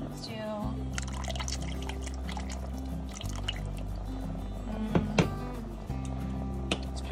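Fish sauce poured into a pot of rice soup, a close trickle and dripping of liquid over a low steady hum, with a few brief clinks near the middle.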